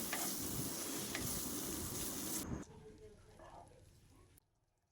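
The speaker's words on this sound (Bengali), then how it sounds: "লঙ্কা বাটা দিয়ে একটু নেড়ে চেড়ে নেব" Chilli paste, green chillies and chopped tomato sizzle loudly in a pan while being stirred, then the frying drops to a much quieter hiss and fades away.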